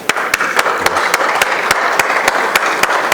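Audience applause welcoming a speaker at a private security conference, a steady wash of clapping with sharp individual claps punctuating it, loud and sustained throughout.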